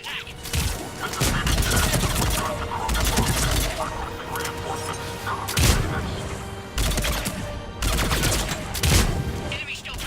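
Heavy gunfire from an attack in the video game Mass Effect 3, dense overlapping bursts of shots and impacts running nearly throughout, loud and close, with brief lulls, while voices talk over the combat.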